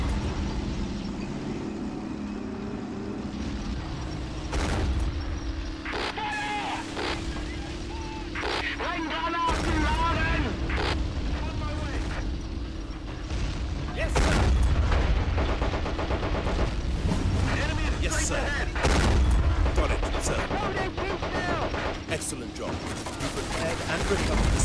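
Near the World War II El Alamein battle in the Men of War: Assault Squad 2 video game, gunfire cracks and explosions pound over a constant engine and battle rumble, with scattered shots and heavy thuds throughout.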